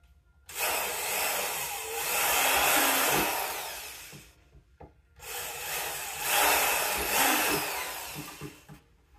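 A power drill boring holes into the front of a vintage wooden speaker cabinet, with two long, loud whirring bursts of drilling separated by a brief pause and light clicks.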